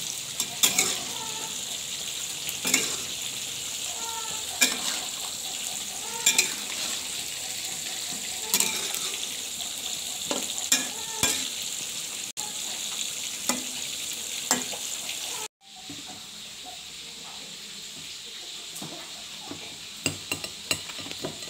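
Tofu and bakwan vegetable fritters fry in hot oil in a home kitchen, a steady loud sizzle with intermittent stirring clatter and a brief cut partway through, no voices.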